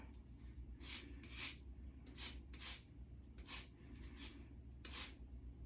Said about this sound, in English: I pretty much just zested this lemon.